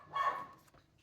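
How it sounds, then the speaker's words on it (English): A single bark from dachshunds indoors, one loud burst that quickly trails off into quiet. "my sausage dogs are barking at something"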